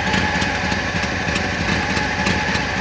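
A Monte Carlo car engine idles steadily after a cold start on the first spring start, a loud, continuous close-up rumble with no voices.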